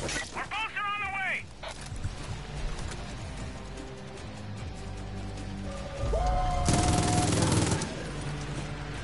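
Rifle gunfire in Far Cry New Dawn, fired from a weapon with a suppressor and ACOG scope, rapid bursts of shots amid game sounds and crashing impacts, with someone talking over it.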